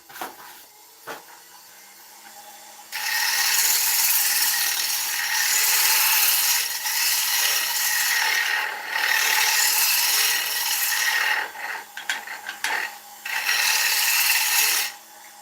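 A woodturning tool rasps against an oak bowl spinning on a lathe, making light cuts in long steady scraping stretches broken by brief pauses, preceded by a few quiet knocks and a low motor hum.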